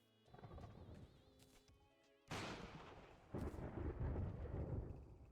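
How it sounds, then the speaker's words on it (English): Thunder and lightning in a video game: heavy booming cracks and rumbling rolls, one sharp strike midway and another loud crash after, under faint game tones with no talking. "Something about the lightning sounds in this game are just so nice."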